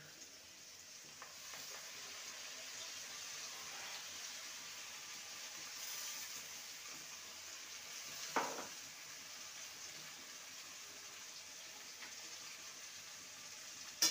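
Ground spice paste with turmeric fries in a pan for a vine spinach and prawn dish, giving a soft, steady sizzle with occasional quiet scrapes of stirring, faint and close with no voices.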